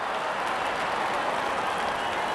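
Cricket crowd at Eden Gardens, Kolkata, applauding during an IPL match, a dense steady wash of clapping and crowd noise with no break.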